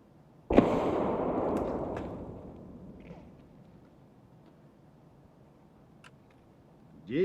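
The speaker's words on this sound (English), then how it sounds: "Actually gonna try and throw a grenade way up there." Grenade in the video game Escape From Tarkov bursting in a single sudden blast that rolls off into a long, fading rumble, moderately distant, followed by faint scattered sounds.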